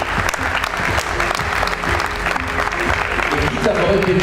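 Audience applause at an awards ceremony in Aveyron, a dense, steady wash of many hands clapping throughout, loud and continuous, with some voices mixed in underneath.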